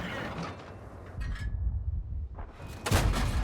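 Self-propelled artillery fire in the World of Tanks game: two heavy blasts roughly a second and a half apart, each with a sharp crack and low rumble, with mechanical clanks between them.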